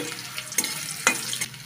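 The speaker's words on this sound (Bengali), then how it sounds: "আলুটা একটু ভেজে নিয়েছি।" Potatoes fry in hot oil in a pan, giving a soft, steady sizzle with a couple of sharper stirring clinks, fairly faint and without talk.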